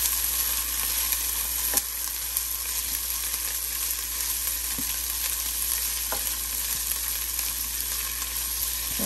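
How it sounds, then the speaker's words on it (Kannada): Ginger garlic chilli paste fries in a pan with a constant bright sizzle, broken now and then by faint taps of a spoon, alone without voices. "ಹೀಗೆ ಫ್ರೈ ಮಾಡೋಣ, ಅದು ಹಸಿ ವಾಸನೆ ಹೋಗೋ ತನಕ ಜಿಂಜರ್ ಗಾರ್ಲಿಕ್ ಪೇಸ್ಟ್ದು"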